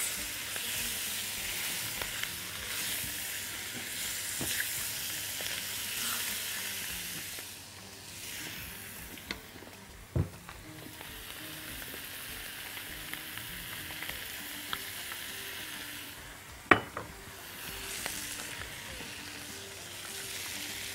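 Chicken drumsticks frying in butter and oil in a pan give a steady close sizzle and hiss, with occasional pops and small clatters over about twenty seconds and no talk.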